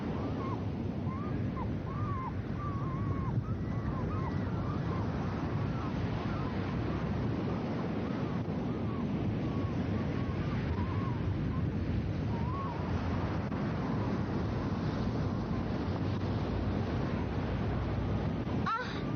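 Sea waves wash against the shore in a continuous, even rush, with faint voices talking underneath.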